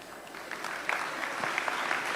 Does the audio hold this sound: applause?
yes